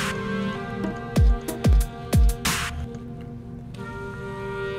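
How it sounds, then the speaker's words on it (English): Brass loop playing back through a DAW mixer channel, a sustained, dense tonal bed with a few loud low punchy hits landing in a quick rhythmic cluster midway. "track 10, we have our brass loop going"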